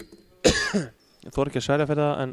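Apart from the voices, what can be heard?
cough into the microphone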